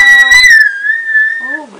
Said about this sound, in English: Teach me how to whistle.